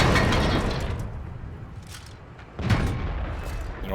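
Shell hits land on a tank in World of Tanks: a loud booming impact opens, fading into rumbling debris, then a second heavy crash strikes about two and a half seconds later, with no talking.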